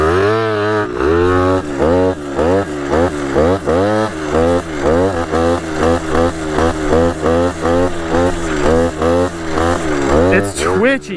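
A homemade two-stroke pit bike rides on open road, its engine buzzing and repeatedly revving up and down in rhythmic surges close to the microphone.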